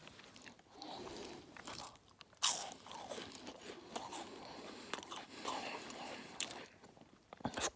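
Chocolate rolls are bitten and chewed close to the mic during a mukbang, producing repeated crisp crunches and a sharp bite near the middle, with wet chewing between them and no speech.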